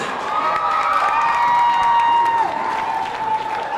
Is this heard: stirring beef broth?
no